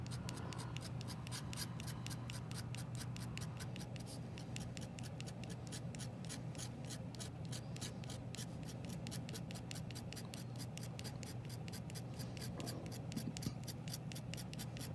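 A scratch art board being scratched with a hand tool while shading in hatching and cross-hatching strokes: rapid, even, close-up scraping strokes repeat steadily throughout, with no voices.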